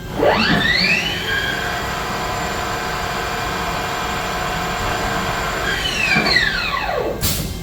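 A 2012 Haas ST-30 CNC lathe spindle winds up after a gear change, its whine rising steeply in pitch, holding a steady loud tone, then falling back as it spins down, close and with no talking.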